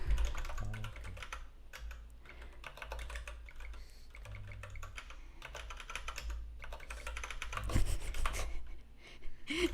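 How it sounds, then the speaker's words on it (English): Computer keyboard typing during software coding work: quick irregular clicks and key taps, close and fairly quiet, with brief pauses and a few heavier strokes near the end; no talking. "You're typing."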